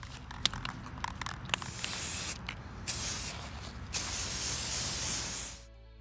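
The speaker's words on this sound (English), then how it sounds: "I just used a small spray bottle that I had on hand" A small spray bottle mists a half-water, half-vinegar mixture in several hissing bursts, the sprays coming close and loud with short pauses between, the last one long and steady before it stops.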